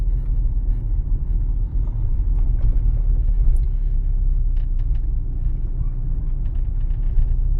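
A car rolls along an unmarked road on a driving exam route in Pereiaslav, giving a steady, close low rumble of engine and tires that continues evenly without a break.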